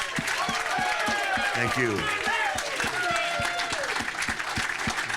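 An audience applauds a wrestler with loud, sustained clapping and crowd noise, while a nearby voice talks over the start of the ovation.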